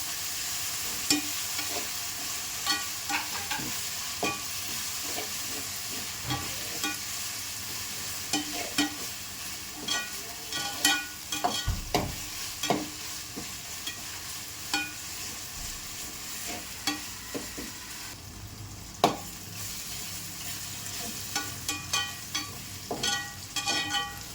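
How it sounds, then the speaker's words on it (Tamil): Ginger garlic paste sizzles and fries in a pan for chicken pepper gravy, a continuous soft crackle broken by frequent scraping stirs of a spoon, with no talking. "இஞ்சி பூண்டு பச்சை வாசனை போகிற அளவுக்கு வதக்கி எடுத்துனாங்க."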